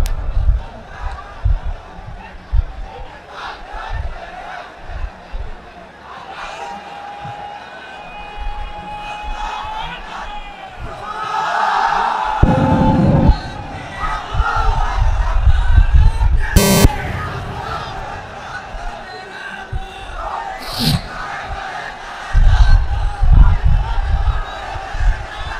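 A large crowd at an Islamic sermon gathering answers with takbir chants, and loud surges of many voices rise together in several bursts under an amplified public-address sound.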